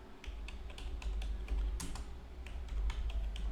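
Typing on a computer keyboard while recording a desktop screen tutorial: a steady run of quick, close key clicks over a low constant hum, with no voices.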